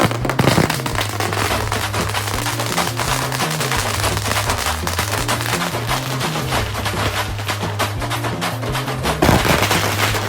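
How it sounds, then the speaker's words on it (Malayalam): A large firecracker, known as a mala pataka, bursts during Diwali celebrations, a loud dense rattle of rapid-fire crackling pops running continuously, with a low droning hum underneath. "ആദ്യം തന്നെ ഒരു വലിയൊരു മലപ്പടക്കത്തിൽ തുടങ്ങാമെന്ന് വിചാരിച്ചു."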